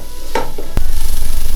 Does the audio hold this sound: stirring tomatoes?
yes